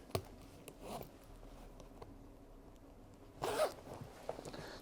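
A zipper on a Halvarssons Eagle leather motorcycle jacket is pulled to join it to trousers, a faint rasping zip near the end of the clip amid quiet rustling and small clicks.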